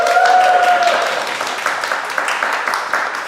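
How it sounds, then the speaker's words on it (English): An audience claps a welcome round at a startup talk, with loud, dense clapping fading gradually over a few seconds as a brief tone sounds at the start. "Can I get a welcome round of applause from everyone here?"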